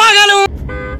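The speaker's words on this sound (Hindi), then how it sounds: "हमें पता है कि नया हॉर्न लगा के आया गाड़ी में" A newly fitted car horn on a Hyundai Creta gives one loud, steady, tonal honk lasting about half a second, followed by a quieter second toot after a short break.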